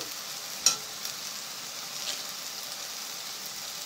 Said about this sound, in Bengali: ব্যাস দিয়ে দিলাম, মিক্স করে নিচ্ছি এবারে